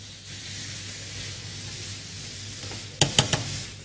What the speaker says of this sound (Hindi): चिकन मैं फ्राई कर रही हूँ